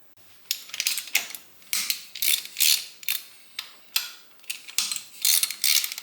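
Ratcheting wrench loosening bolts on a 1995 Harley-Davidson FXSTSB Bad Boy during a drain job, heard as a series of quick, close clicking ratchet bursts repeating in a steady rhythm, with no talking.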